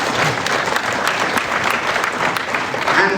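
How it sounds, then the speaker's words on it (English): Audience applause at the Africa Business Investment Summit in Washington, a steady dense wash of clapping filling the hall for about three seconds, with no clear voices over it. "Please give yourselves a round of applause."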